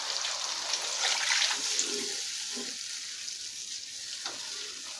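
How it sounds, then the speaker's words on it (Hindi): Lentils tipped into a pot of hot masala give a steady, moderately loud sizzle and hiss that fades a little and continues without talk. "अब हम इसमें अपनी दाल ऐड कर देंगे।"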